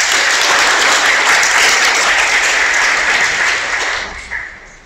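Enthusiastic applause from a church congregation, a dense wash of clapping that holds steady for several seconds before tapering off.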